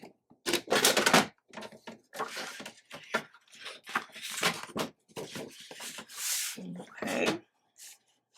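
Paper being trimmed by hand to make a greeting-card envelope, a run of close, irregular rubbing, rasping and crisp slicing strokes with short pauses between them, no talking.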